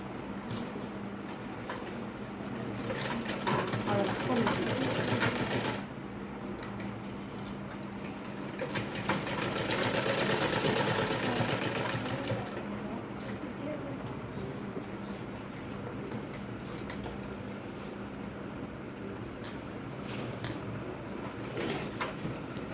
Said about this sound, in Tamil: பேக் ஸ்டிச்சிங் போடுங்க.